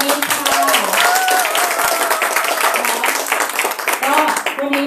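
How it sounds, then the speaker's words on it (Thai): An audience applauds a speaker at a talk, with steady clapping throughout while someone speaks over it. "ขอเสียงปรบมือดังๆไปถึงคุณนกอรณงศิริวานิชค่ะ"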